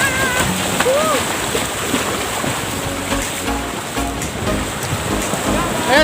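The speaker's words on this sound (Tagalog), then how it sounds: "laki ng alon, hindi namin kaya sa tubig" Big sea waves churn and surge continuously, close and loud, with a steady wash of surf noise and faint voices and whistles over the top.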